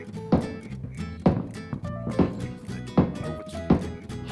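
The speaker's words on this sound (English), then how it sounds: "Fucking nail gun or something." Nail gun firing in a PUBG match, a series of sharp thunks roughly every second, fairly close and loud, with no talk over them.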